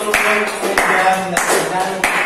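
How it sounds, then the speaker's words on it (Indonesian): An audience claps hands during a classroom teaching-practice session, a steady dense round of applause with a few sharper claps and voices mixed underneath. "Lagi kita tepuk tangan untuk"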